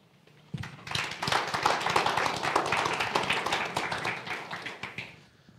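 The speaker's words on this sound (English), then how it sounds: "once again, a round of applause for Robert Cameron Ellis" After a brief pause, an audience at a forensic accounting standards launch bursts into brisk, sustained applause. The dense clapping swells, then tapers off and fades near the close.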